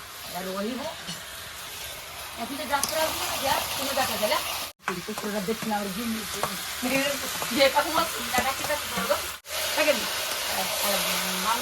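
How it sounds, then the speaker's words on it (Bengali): Chicken pieces sizzle and fry with ginger-garlic paste in a village-style kitchen, with steady stirring and scraping against the pan through most of the stretch and two brief dropouts. "চিকেন দিয়ে ভালো করে কষিয়ে নিব।"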